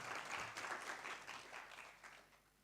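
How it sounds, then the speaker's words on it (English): An audience at an All Africa Media Leaders' Summit gives a faint, distant round of applause, steady clapping that slowly fades over a few seconds. "a round of applause for yourselves as well"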